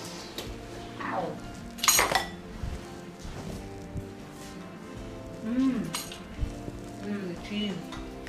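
A metal spatula scrapes and clinks against plates and a pan while homemade pizza is served, with several sharp, close clinks and clatters in bursts amid kitchen movement, under occasional conversation.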